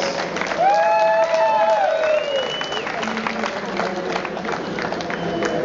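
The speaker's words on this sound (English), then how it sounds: "Again, a big applause for Netherlands." An audience applauds at an ibrik coffee championship in Maastricht, steady dense clapping throughout, while a voice speaks over the start.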